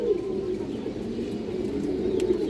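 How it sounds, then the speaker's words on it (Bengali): A female pigeon of the kajla gear type, a laying, chick-raising hen at a loft, coos in a steady low rumble throughout, close and continuous, with no talking. "এই যে দেখেন মাদি কবুতর, ডিম বাচ্চা ফুল ওকে আছে দর্শক"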